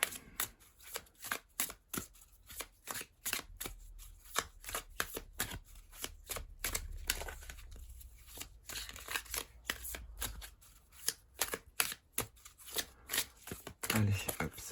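A deck of tarot cards is cut and shuffled in a steady run of crisp, rapid card riffles and flicks, close and fairly quiet, with no talking.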